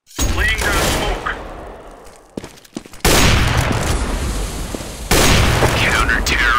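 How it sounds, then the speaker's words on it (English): Counter-Strike flashbang and gunfire erupt in loud bursts, a sharp bang followed by ringing decay, then heavy rattling shots and booms, with a brief spoken voice between them. "Throwing flashbang."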